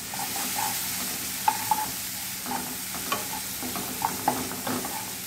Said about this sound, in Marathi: व्यवस्थित कांदा हलवून घ्यायचं लालसर कलर होईपर्यंत।